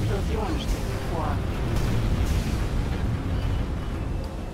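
A loud, sustained explosive roar in the video game X4: Foundations fills the whole stretch, a deep rumbling blast with crackling debris, dense and unbroken from start to finish.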